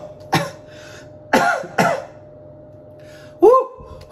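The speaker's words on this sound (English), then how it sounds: "I breathed it in and it made me cough" Several sharp coughs and a throat clearing come in separate bursts after inhaling menthol vapor, close and dry, with quiet pauses between them.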